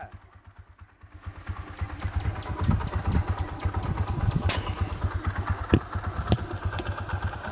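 A motorcycle engine idles close by and loud, its rapid, even firing pulses steady throughout with a few sharp clattery knocks and no talking.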